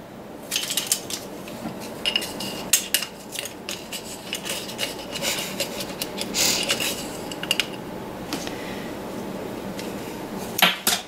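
A metal measuring spoon scraping and clinking against a bowl while baking soda is measured for buttermilk biscuits, with light, irregular clinks and rubbing sounds close by.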